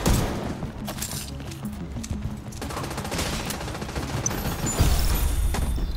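Rapid automatic gunfire from The Division 2 video game crackles in dense bursts with heavy thumps, loud and continuous through the fight.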